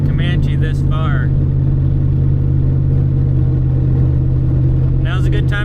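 Jeep Comanche pickup running down the road: a steady low engine drone with a strong hum, loud and constant. Someone talks briefly over it at the start and again near the end.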